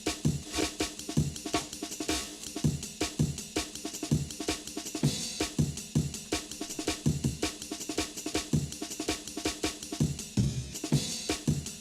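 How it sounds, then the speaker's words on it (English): Chopped and rearranged jungle drum breaks, with reversed, slowed and time-stretched sections, form a busy stream of fast breakbeat hits and snappy snares at moderate level, with no talking. "I did some little tricks like reversing parts of it, slowing parts of it down, time stretching parts"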